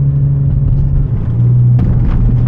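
Car rolling over a rough, bumpy road on McLaren Avenue, a loud continuous low rumble with steady engine drone and a few jolting thumps near the end, no talk.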